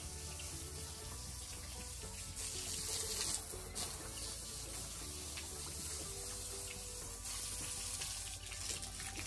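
Water runs steadily and loudly from a hose or tap while a pig pen is washed down, a continuous splashing rush with no speech.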